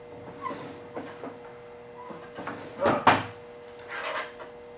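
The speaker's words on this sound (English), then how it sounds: "So well-made dresser, and all the drawers move real well." Drawers of a well-made walnut handkerchief dresser chest with burled walnut front, a series of wooden slides and knocks, two louder thumps near the middle, close by and fairly quiet.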